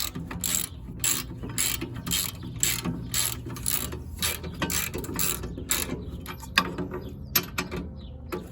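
A socket ratchet clicking rapidly while tightening a subframe bolt into an aluminum part on an AE86, steady bursts of sharp pawl clicks close by with brief pauses between strokes.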